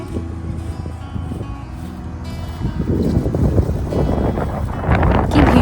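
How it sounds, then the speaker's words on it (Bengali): Strong wind gusts across the wide open grounds of Tempelhofer Feld in Berlin, a roaring, rumbling buffet on the microphone that builds louder toward the end. "ভীষণ জোরে হাওয়া বইছে"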